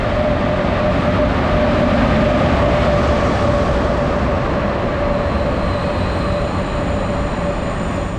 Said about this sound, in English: We're on the Sncf train.